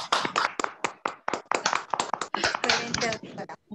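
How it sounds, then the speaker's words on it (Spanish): Scattered clapping from a small audience at a lecture on political psychology, short irregular claps close by with a voice talking over them. "Propongo un aplauso para la doctora Alexandra porque es lo mínimo que te mereces."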